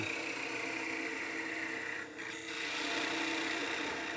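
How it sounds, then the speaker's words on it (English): A wooden box spinning on a lathe is parted off with a tool, giving a steady scraping, rasping cut that stays constant, with a brief dip near the end as the piece comes free. "And just part that off into your hand."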